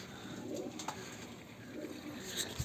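Pigeons kept in a pigeon house after feeding coo softly, with low murmuring calls faint against a quiet indoor background and no one speaking.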